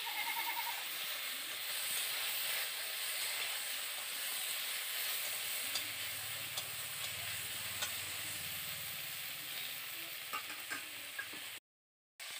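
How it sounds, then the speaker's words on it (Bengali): Sliced okra frying in hot oil in a pan, a steady loud sizzle and hiss with faint stirring scrapes throughout, no voices. "ভেন্ডিগুলোকে দিয়ে ভালো করে নাড়াচাড়া করে নেব।"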